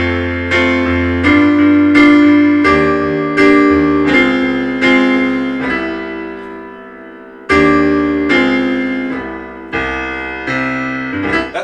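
Deceptive resolution chord progression built on modal interchange major seventh chords, each chord struck and left ringing to decay, a steady sequence of loud, close sustained harmonies with a fresh attack partway through, no talk.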